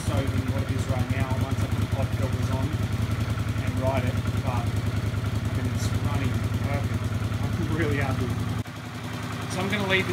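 A Honda CX500 motorcycle engine runs steadily at idle, a dense continuous rumble that stays loud throughout and dips briefly near the end, with someone talking over it.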